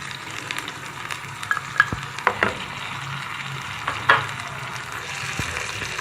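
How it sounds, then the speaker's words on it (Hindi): Ginger and garlic frying in oil for fried chicken, a steady close sizzle with a few sharp clinks of a spoon stirring against the pan, no talking. "अच्छा सा ये ज़रा फ्राई हो जाए ऑयल में।"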